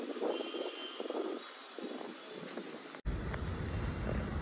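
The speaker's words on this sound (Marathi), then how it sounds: "आणि वारा पण खूप छान सुटलेला आहे." Wind blows across the microphone outdoors on an overcast, breezy day after rain in a Sawantwadi town, a steady rushing roar that cuts abruptly at about three seconds and resumes heavier and lower, with no talk.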